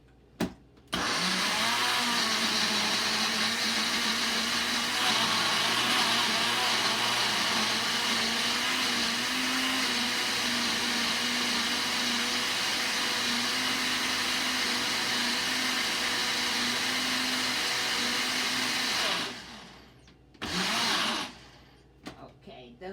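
A blender purees Jamaican green seasoning in a steady, loud whir that runs about eighteen seconds, then cuts off, followed by a couple of brief bursts.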